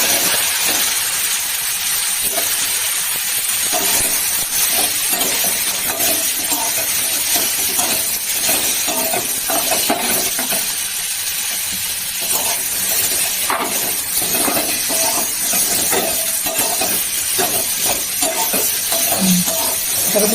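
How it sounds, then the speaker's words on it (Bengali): Boiled potato pieces fry in oil in a kadai with a steady, loud sizzle and scattered crackles throughout, without any talking. "যে সিদ্ধ করা আলুগুলা পিস করে নিয়েছি, এগুলো একটু ভিজে নেবো।"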